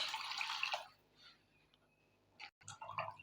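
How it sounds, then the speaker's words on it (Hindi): Water poured into cooked masala for fish pulao gives a short splashing pour at the start, then quiet, followed by a few wet splashes and sizzles near the end. "अब हम इसमें पानी डाल देते हैं।"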